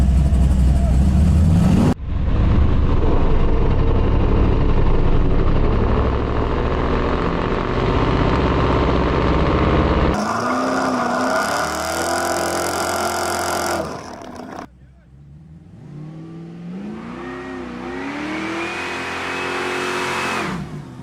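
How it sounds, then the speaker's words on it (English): A 1970 Chevy Nova with a 540 stroker engine roars loudly and continuously during a burnout at about quarter throttle, revving hard with rising and falling pitch, then drops briefly before climbing again in a sustained howl. "When we're doing the burnout, it's only using about quarter throttle all the way through."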